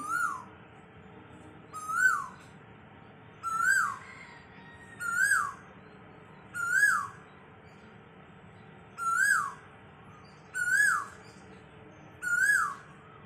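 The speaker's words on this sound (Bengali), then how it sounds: "দেখো কি সুন্দর কোকিল, কত বড়, দেখো কি সুন্দর ডাকছে দেখো।" An Asian koel calls repeatedly, eight clear rising whistled notes spaced about every one and a half seconds, fairly near and ringing out alone over quiet background.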